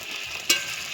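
Eggplant frying in oil in a wok with a steady bright sizzle, broken by two short scraping strokes of stirring, close up and without voices.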